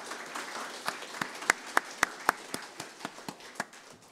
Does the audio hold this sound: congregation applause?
yes